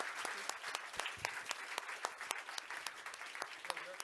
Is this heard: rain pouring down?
no